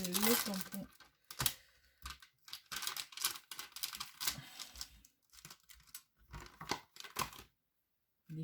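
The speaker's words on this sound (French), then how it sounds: "je vais utiliser le tampon." A rubber stamp is pressed and tapped onto paper cardstock while making a floral greeting card, giving sharp, irregular close knocks and rustles mixed with handling noise, under and between spoken French talk.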